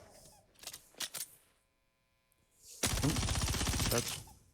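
Enemy gunfire in Star Citizen's first-person combat: a few sharp shots early, a short lull, then a loud sustained burst of rapid automatic fire.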